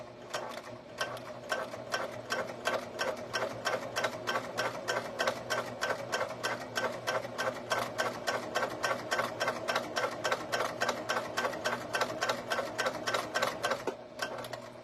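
A sewing machine stitching webbing for keychains, running in a fast, even mechanical rhythm of needle strokes close by, stopping briefly near the end, with no talking.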